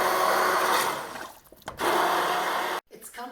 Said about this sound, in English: I'm going to hit it with my immersion blender